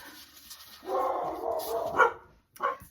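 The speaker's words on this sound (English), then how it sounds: "I had to go and find out what the dogs were barking at" Dogs barking indoors at a distance, a short burst of rough barks and a yip, followed after a brief pause by one more sharp bark.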